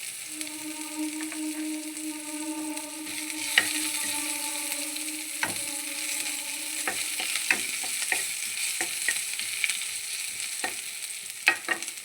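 Onions frying in a pan with ginger and garlic, a steady soft sizzle punctuated by frequent spatula scrapes and clicks against the pan, close by with a low hum in the background and no voices.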